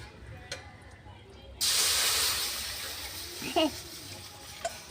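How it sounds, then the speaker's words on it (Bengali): A loud, sudden hiss and sizzle bursts out as liquid hits a hot pan, then slowly fades over a few seconds. "এবার কড়াইতে দিয়ে দেবো আমি জল।"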